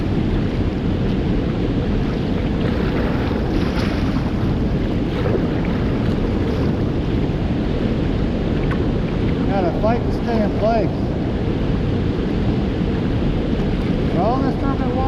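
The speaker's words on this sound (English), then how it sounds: "All this turbulent water that I'm sitting in is coming off of that tower" Turbulent water churning below the Osage River lock and dam, a steady loud rush and wash with wind buffeting the microphone, while someone speaks briefly over it.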